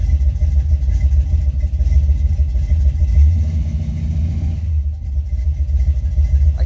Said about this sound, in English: The car sounds like it's recovering from a bad cold.